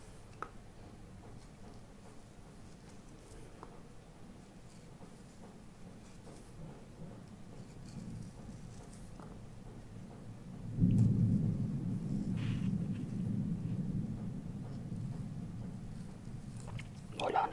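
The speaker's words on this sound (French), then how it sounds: "on a bien entendu l'orage." A thunderstorm rolling in the distance during fruit salad preparation: low, soft rumbling that swells into a louder, sustained roll partway through, beneath quiet kitchen sounds and occasional small clicks.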